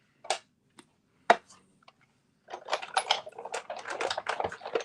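Paper card scraps run through a die cutting machine, heard as a few sharp separate clicks and knocks, then a busier stretch of dense clicking and crunching.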